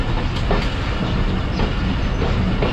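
The Sialkot Express passenger train runs along the tracks in Pakistan, a loud continuous rumble of wheels and carriages with faint rhythmic clatter, heard from on board with no talking.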